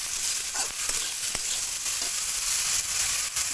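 Fish frying in a pan with turmeric and salt as it is stirred, giving a loud, continuous close-up sizzle broken by a few sharp spatula ticks.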